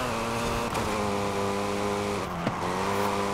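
Tuned Hyundai Elantra engine in Forza Horizon 5, revving hard and holding high pitch, with two sharp gear-change dips before climbing again.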